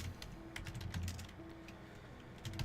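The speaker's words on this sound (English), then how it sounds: "Oh, you were typing in the dark." Typing on a computer keyboard in the dark, a steady run of close, quiet clicking keystrokes with a few louder taps, no voices.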